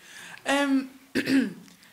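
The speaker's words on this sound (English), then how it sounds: "Sorry, I need to clear my throat." A single person clears their throat in two short, voiced bursts about half a second apart, close and fairly loud, during a live-streamed masterclass.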